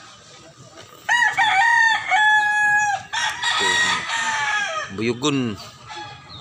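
Loud, close rooster crowing with long drawn-out calls and a rising final squawk, roughly a year-old bird at a Cebu poultry seller, a voice speaking briefly over the end.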